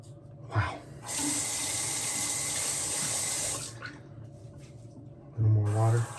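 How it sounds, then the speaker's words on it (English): Tap water runs steadily into a sink during a shaving routine, a loud continuous splashing rush lasting a few seconds, with brief thuds and a short voiced sound before and after. "Just gonna put some water on."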